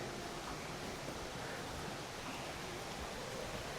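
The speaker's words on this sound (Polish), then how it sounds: "Tu płynie sobie rzeka pod nim." A river rushes beneath a decorated bridge along the trail up Adam's Peak in Sri Lanka, a constant broadband hiss of flowing water at steady level with no voices.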